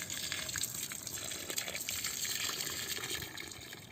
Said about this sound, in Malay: Kita siram air supaya tanahnya lembab dan agak padat ya.